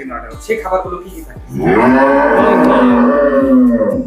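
A dairy cow on a small Bangladeshi farm gives one long, loud, close moo after a few shorter grunting sounds, with a steady rhythmic mechanical thumping underneath.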